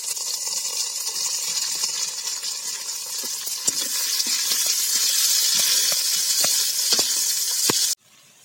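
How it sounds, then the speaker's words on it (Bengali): Onion, garlic and dried red chillies frying in hot oil give a loud, steady hissing sizzle with scattered spatter pops and stirring knocks, continuing for several seconds before cutting off abruptly near the end. "পেঁয়াজ আর রসুন আধা ভাজা হয়ে গেছে। এখন দিয়ে দিব শুকনা মরিচ,"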